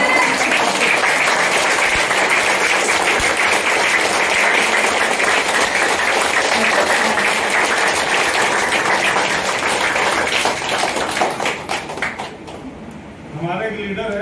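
A workshop audience claps, dense loud applause from a crowded hall that holds steady for several seconds, then thins and fades near the end as a voice begins.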